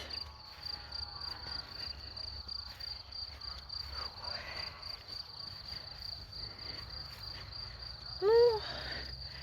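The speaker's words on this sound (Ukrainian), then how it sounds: "Цвіркуни цвіркотять." Steady high-pitched cricket chirping fills a quiet outdoor night, with a faint low hum underneath and a short rising whistle-like call near the end.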